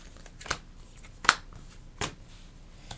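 Three brief, close swipes of playing cards being drawn in a Marvel Champions game, spaced evenly about three-quarters of a second apart on a quiet table.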